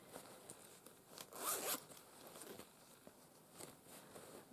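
Zips on a travel bag with different coloured zippers are pulled open and shut in several quick, close rasping runs, faint and alone without talk.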